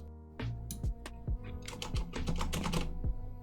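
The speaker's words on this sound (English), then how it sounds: "Now you're hearing keyboard clicks and mouse clicks." Rapid clicking of computer keys, close and crisp, with a few sharper clicks mixed in, continuous typing for a few seconds.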